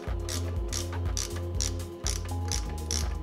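A ratchet wrench turns the rear axle chain adjusters on a drivetrain, giving a rhythmic series of close, loud clicking strokes with short pauses between them.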